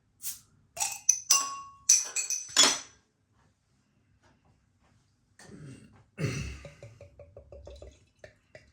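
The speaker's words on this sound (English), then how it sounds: "Let's get it out into a glass and see what we get." Zichovec Hotline 15 West Coast IPA, a Czech craft beer, is handled and poured into a glass: a burst of clinks and glassy knocks, then a fizzy pour with rising gurgles and small taps, near and fairly loud.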